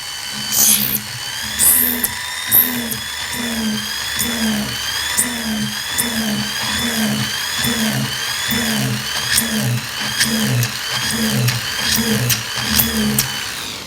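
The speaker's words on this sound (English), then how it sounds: "Next, we're going to swap out to a bud burr. Again, this is quite an aggressive cut." Rotary tool with a 3.5 mm bud burr cutting into a flat metal plate during flush stone setting, lubricated, giving a steady whining drone with a regular pulsing rhythm, close and moderately loud throughout with no talk.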